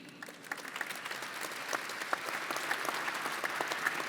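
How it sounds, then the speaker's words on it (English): A conference audience at a meeting of European socialist party leaders claps steadily, dense applause filling the room at moderate volume without a break. "Let's applaud them again."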